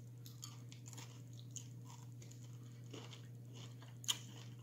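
Someone chews crunchy Reese's Pieces candy close by, with irregular soft crunches and bites over a steady low hum and one sharper crack near the end, faint overall.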